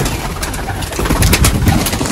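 Teddy pigeon cooing in a loft, its low throaty coos rising and falling close by over a steady background hum, with no talk.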